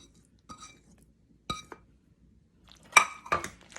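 Kitchen dishes clink as boiled eggs are moved into a bowl for macaroni salad, a few sharp separate glassy taps followed by a louder cluster of clinks near the end.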